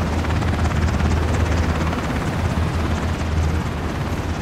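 A helicopter in the video game Ring of Elysium makes a loud, constant rotor and engine roar that fills the whole clip without a break.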